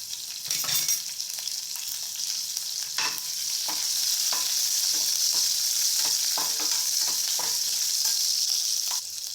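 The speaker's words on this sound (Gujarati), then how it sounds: "શેકાઈ જાય પછી આપણે એની અંદર બે લીલા મરચાં કાપેલા" Chopped green chilies sizzling in hot oil with cumin seeds, a bright continuous hiss with scattered stirring taps and spoon clinks, close and steady without any talk.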